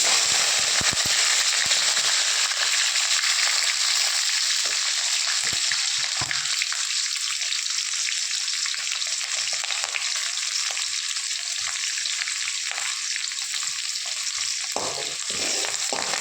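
Onion and curry leaves frying in oil in a pan, a loud, dense sizzle with scattered crackles and pops that holds steady throughout, close up and alone.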